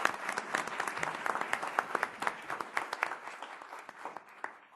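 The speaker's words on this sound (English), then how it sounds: "Let's give them a round of applause." Scattered applause from a small audience at a college board meeting, individual claps clearly distinct and fairly quiet, tapering off toward the end.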